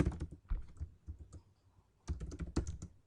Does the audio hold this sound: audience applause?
no